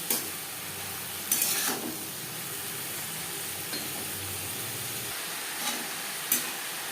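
Long beans with salt and turmeric are stirred in a frying pan, giving a steady low sizzle broken by a few sharp scrapes and clinks of the utensil against the pan.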